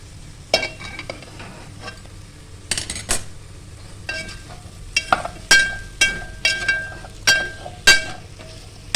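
A spoon stirs vegetable pulao with potato and paneer in a pot, with sharp metallic clinks and scrapes against the pot that grow into a regular, repeated rhythm over faint background sizzling.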